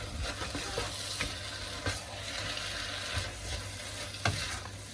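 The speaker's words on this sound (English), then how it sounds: "And then we just want to continue stirring this now." Noodles are stirred in a sizzling frying pan, with a continuous fry hiss and repeated soft scraping strokes of the utensil; fairly quiet and with no talk.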